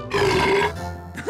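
A cartoon monster lets out one long, loud, rumbling burp lasting about a second, with a short gurgling tail at the end, heard on its own with no talking.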